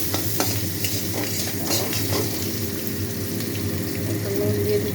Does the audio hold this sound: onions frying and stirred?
yes